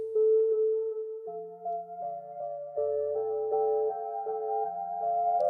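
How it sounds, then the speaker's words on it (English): Synth pad chords chopped by the Phrasebox plugin into a stepping melody, clean sustained tones shifting pitch every half second or so over a moving lower line, alone with no talking. "And it started chopping up those chords into a nice little melody for me."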